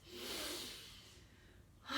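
One long, slow exhale from a person doing a breathing exercise, a soft close airy breath that fades away, with a brief sharper intake right at the end.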